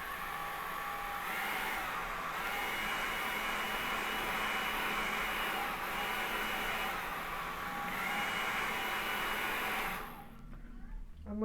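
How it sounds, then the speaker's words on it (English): A hair dryer blows a steady, loud whir while drying a watercolour painting, holding constant for about ten seconds before switching off and leaving a quiet room. "if you've got a hairdryer, dry it off with a hairdryer"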